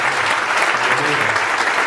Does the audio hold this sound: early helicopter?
no